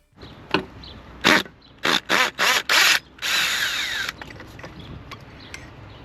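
Cordless combi drill fitted with a long Torx bit backing bolts out of a crash-damaged Audi TT, a loud close series of short whirring bursts followed by one longer sustained run, with faint clicks and clatter between.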